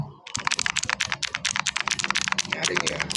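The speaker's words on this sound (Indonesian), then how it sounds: "nyaring ya, blue switch." Outemu Blue mechanical keyboard switches click rapidly in a dense, uneven run of sharp, bright, near keystrokes, crisp and loud against a quiet background for about three seconds.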